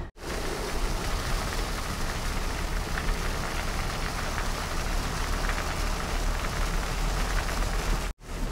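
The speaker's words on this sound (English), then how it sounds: "I'm going about 55 miles an hour and it's raining" Rain drumming on a 2023+ Ford Bronco soft top while driving at about 55 mph, a steady dense hiss and patter over low road and engine rumble, continuous and fairly loud throughout.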